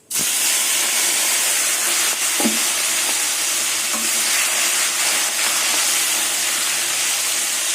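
Loud, steady sizzling and hissing of prawns frying in hot oil, with a few scraping stirs of a utensil against the pan.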